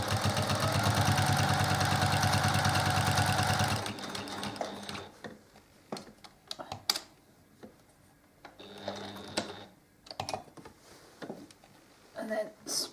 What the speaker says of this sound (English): I'm going to stitch into the corner to create my mitered corner.